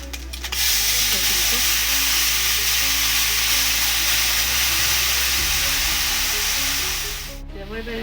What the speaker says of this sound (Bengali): পাঁচফোড়ন শুকনো লঙ্কাটা হয়ে গেছে হয়ে গেছে এবার দিয়ে দিচ্ছি এটা